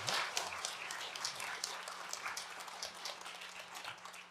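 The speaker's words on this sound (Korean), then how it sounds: "뜨거운 가열찬 박수로 한 번만 해주세요." A church congregation applauds the choir during a Sunday service, a fairly faint, steady patter of many hands clapping from a distance, continuing evenly throughout.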